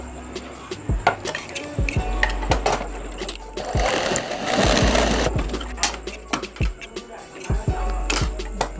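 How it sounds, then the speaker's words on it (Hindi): An electric sewing machine stitches the adjuster strap on a homemade travel bag in bursts of rapid mechanical chatter, with brief pauses and clicks between runs, close and fairly loud. "करके हम इधर सिलाई कर लेंगे मजबूती से।"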